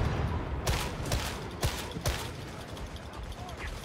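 Gunfire in Warhammer 40K Darktide, a series of sharp cracking shots with irregular spacing, mid-distance and moderately loud over a busy combat backdrop, with people talking at times.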